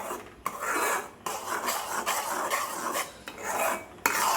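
A mango and jaggery mixture is stirred in a pan with a steady scraping and rubbing. The strokes are rhythmic, close and moderately loud, with short pauses between them and no talking.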